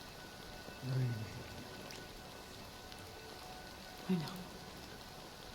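Rain falls steadily as a soft, even hiss in the background, faint and continuous, while a voice speaks briefly a couple of times over it.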